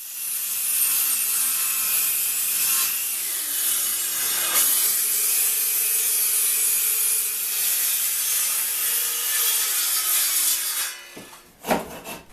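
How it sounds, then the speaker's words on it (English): A circular saw rips lengthwise through 2x4 lumber pinned to a workbench, a loud, steady high-pitched cutting whine sustained for about eleven seconds, then winding down with a brief clatter at the end. "Then a circular saw was used to rip them."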